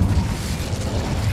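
An Incendio fire spell cast in Hogwarts Legacy bursts out as a loud, rumbling whoosh of flame, a dense low roar that holds steady for a second or so.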